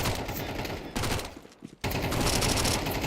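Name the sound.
SMG gunfire spray in Counter-Strike 2 video game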